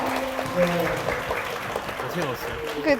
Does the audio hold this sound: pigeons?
no